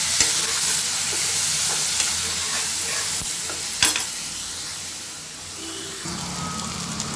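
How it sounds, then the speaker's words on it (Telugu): Potato pieces frying with turmeric in a pan, a bright continuous sizzle close up with occasional stirring scrapes and clicks. "ఇప్పుడు ఫ్రై అయిపోతుంది"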